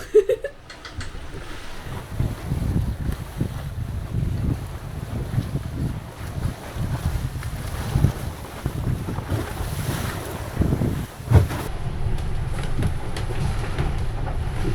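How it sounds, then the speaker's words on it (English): A sailboat beats into swells at sea at night on a passage toward Gibraltar, with constant wind buffeting and rushing water, irregular thumps as the hull meets waves, and a sharp slap near the end, all without speech. "We've been beating into the swells all night, and it was pretty uncomfortable"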